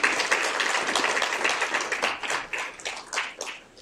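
An audience at a Yale conference welcome session applauds a colleague: dense, crackling clapping from many hands, fairly loud and continuous, fading slightly toward the end.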